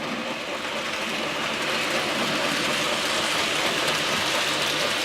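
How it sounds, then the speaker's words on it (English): Several model trains running around a model railway layout make a continuous close rattle and rumble of small wheels on track, steady and unbroken with no talk. "You can have 3 trains running"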